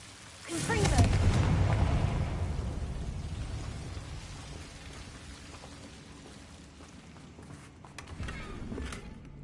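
A Confringo blasting spell in the Hogwarts Legacy video game bursts into a sudden loud explosion that rolls into a long rumbling, crackling decay, with a smaller swell near the end.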